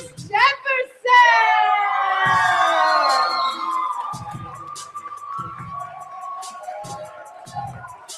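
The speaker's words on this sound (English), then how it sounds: "we applaud the poets here. Keep applauding" A poetry slam audience at a Louder Than a Bomb Great Plains semifinal cheers and whoops loudly, with high excited shouts and a sustained crowd roar that gradually fades, while voices call out over it.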